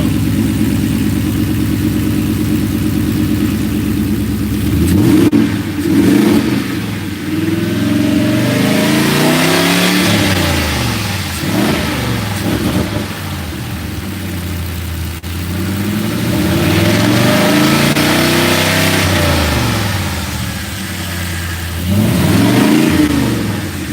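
A project car's engine idles loudly and is revved hard several times, each blip rising and falling in pitch. It sits close and stays continuous with no talking.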